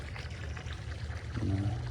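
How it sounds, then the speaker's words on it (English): Water pours steadily from a can onto potted plants, a close, continuous splash that swells and grows louder toward the end, with no one talking. "Watering is one of those things for me."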